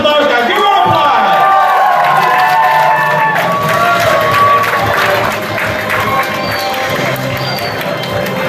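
An audience at a fan convention quiz show cheers and applauds for a contestant, a dense, steady crowd roar with whoops and clapping, loud and continuous, with voices and electronic tones mixed in.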